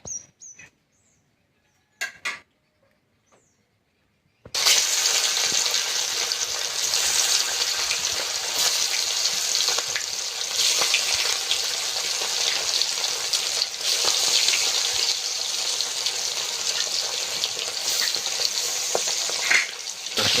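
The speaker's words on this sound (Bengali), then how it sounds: "তেলটা গরম হয়ে গিয়েছে এবার মাছটা আস্তে আস্তে তেলে ভেজে নেবো" Fish coated in salt and turmeric frying in hot oil on a village kitchen stove, a steady loud crackling sizzle that starts abruptly after a few faint knocks and keeps going without talk.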